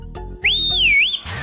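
A single loud, clear whistle in a Telugu action comedy film glides up, dips and rises again over most of a second, heard alone against a quiet background.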